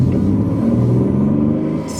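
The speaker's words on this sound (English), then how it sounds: "just getting on the gas, not even really getting on it, but just, of course, just pulling off right there, you can really hear how deep" A 2016 Ford Mustang with the 3.7-liter V6 and BBK shorty headers pulls away under light throttle, giving a deep, steady low engine rumble that stays loud and close for about two seconds.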